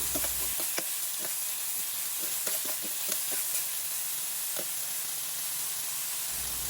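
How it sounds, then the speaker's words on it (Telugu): Cluster beans frying in a pan, a continuous soft hiss of steam and sizzle with scattered light clicks and scrapes of stirring, fairly quiet and without talk. "గోరుచిక్కుడు వేసిన తర్వాత కాసేపు ఫ్రై చేసేయాలి."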